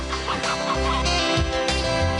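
Free-range hens in a Fermier de Loué egg advert, clucking loudly and continuously in a close, dense chorus, heard alone with no talk.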